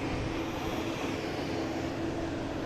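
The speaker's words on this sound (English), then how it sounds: "This American just came in. Coming in from Dallas Fort Worth. Flight 1048, 737-800." An American Airlines Boeing 737-800 arriving from Dallas Fort Worth gives a steady, sustained jet roar with a faint steady tone, moderately distant and unbroken, with no talking over it.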